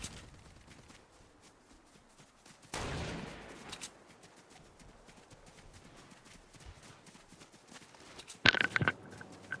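Gunfire in the video game Fortnite, heard as a faint, distant rattle of shots under steady game background noise, with a louder burst near the start and a sharp shot cluster near the end.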